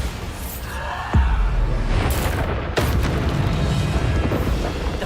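Bombarda blasting spell going off in Hogwarts Legacy: a heavy booming blast with a sharp onset, then a second crackling burst, both trailing into a rumbling, sustained roar.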